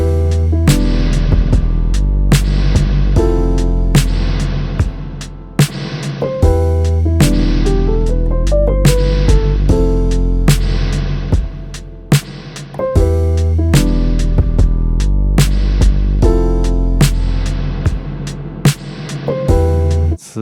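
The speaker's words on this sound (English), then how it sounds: "adding a reverb to the drums sounds so bizarre" Punchy drums play a steady beat, each hit trailing into a long, washy reverb tail that fills the gaps, loud and continuous.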